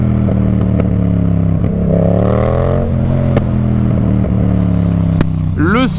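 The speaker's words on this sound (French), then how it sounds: "Écoute le son, je vais ouvrir la visière et je vais un peu accélérer" Yamaha MT-07 motorcycle engine idling loudly up close, then revving up in a rising sweep and settling, with a final sharp throttle blip at the end.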